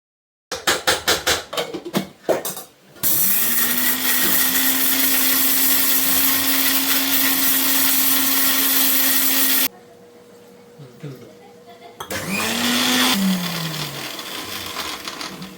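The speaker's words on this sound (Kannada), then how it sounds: "ಹುರ್ಕೊಂಡಿದ್ದಾದ್ಮೇಲೆ ಅದನ್ನ ಇವಾಗ ಪೇಸ್ಟ್ ಮಾಡ್ಕೊಳ್ತಾ ಇದೀನಿ." A kitchen mixer grinds roasted spices into a thick masala paste with a loud, steady whine that runs for several seconds. It stops, a quieter pause follows, then it starts again with another motor surge and a falling tone as it winds down.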